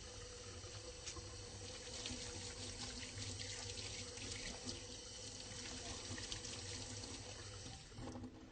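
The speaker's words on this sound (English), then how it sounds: "so I'm going to go ahead and wash my hands." Hands being washed under a running tap at a sink before a medical examination, a steady broadband rush of water flowing continuously and fairly close, with no talking.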